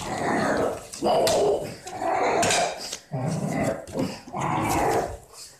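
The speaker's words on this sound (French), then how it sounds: "Le pire, c'est que elle sait pas pourquoi elle aboie." A dog barks and growls loudly indoors in repeated long bursts with brief pauses, filling the space, while someone speaks in between.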